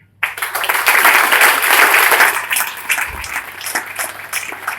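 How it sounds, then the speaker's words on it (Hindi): Loud audience clapping for Dream India starts abruptly after a brief silence, a thick sustained roar of many hands that slowly thins toward the end. "इस ड्रीम इंडिया ड्रीम के नाम के लिए भी बहुत जोरदार ताली होना चाहिए"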